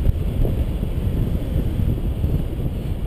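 Steady, heavy wind rush buffeting the microphone during a tandem paraglider flight, a constant low roar with no voices, continuous throughout.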